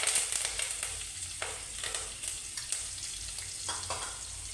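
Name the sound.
green chilies and curry leaves sizzling in oil with garlic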